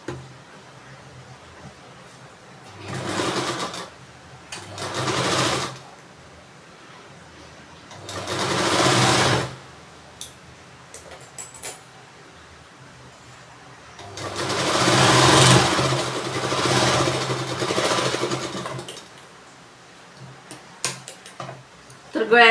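A sewing machine stitches a neckline on fabric in several separate runs, each a quick whirring burst of a few seconds with quiet gaps between, plus small clicks and someone speaking during the pauses.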